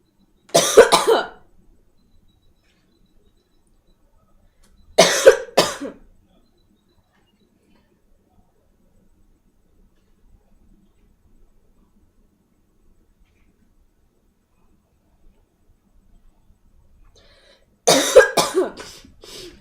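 A girl coughs in three separate fits, each a short cluster of harsh, close, loud coughs, with long stretches of near silence in between.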